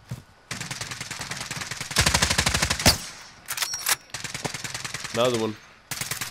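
Rapid machine-gun bursts in a Call of Duty Warzone match, loud and rhythmic, with shorter shots scattered around them and someone speaking briefly in between.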